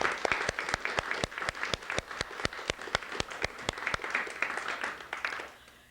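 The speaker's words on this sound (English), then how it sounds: "So if we just give a big round of applause for Mike and Chris and Christine" Audience at an awards ceremony applauding the judges, a small crowd whose individual claps stand out as sharp, evenly spaced beats over a softer wash, fading out at the end.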